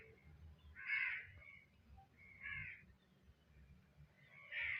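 A crow caws three times in the background, each call distinct and moderately loud, spaced about a second and a half apart over a low, steady ambient rumble.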